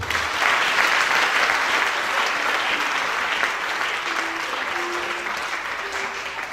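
A church congregation at an Easter service applauds together, a dense, steady round of clapping that holds at an even level throughout with a few scattered voices mixed in.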